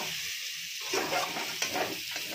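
Chunks of yam and potato hitting spiced oil and being stirred, giving a steady close sizzle with scraping stir noises and small crackles.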